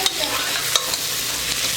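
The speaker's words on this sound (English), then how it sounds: "this is ginger garlic paste. इसको soft होने तक करेंगे." Ginger garlic paste crackles in a hot pan under a constant close sizzle, with a few sharp spoon scrapes and taps as it is stirred.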